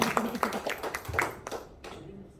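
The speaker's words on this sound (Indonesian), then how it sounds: "Tepuk tangan buat dokter Bonik dan dokter Lisa" A small group claps for two doctors at a beauty and health workshop, a brief scattered patter of hands that fades out within about two seconds, with talk over it.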